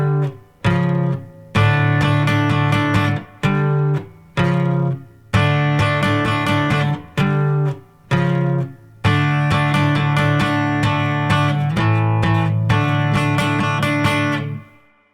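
Electric guitar plays the intro to a song, a loud, close series of strummed chord hits broken by short gaps, then longer ringing chords.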